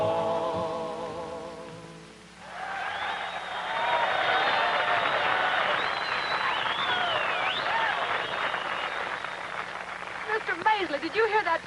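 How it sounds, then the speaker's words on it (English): A rodeo show crowd cheering and applauding, a broad sustained roar of clapping and voices that swells in after a brief sung passage and holds steady, with a voice emerging near the end. "did you hear that crowd cheering?"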